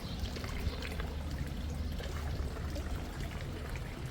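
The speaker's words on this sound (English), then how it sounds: "This has water coming out of that bucket up there." Water pouring from a bucket at a children's pool area of a Paphos, Cyprus resort: a dense, steady splashing pour that stays loud and unbroken throughout, with no voices.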